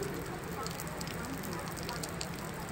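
Steady rain hisses down on an outdoor religious gathering at night, a dense, even patter with faint crackles, heard without a break.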